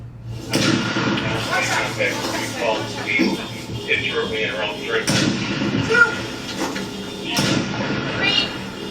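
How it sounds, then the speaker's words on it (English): Police footage of the Minnesota mass shooter capture with several sharp, loud gunshot cracks spaced a few seconds apart, each ringing briefly, amid talking voices. "Shot fired, shot fired."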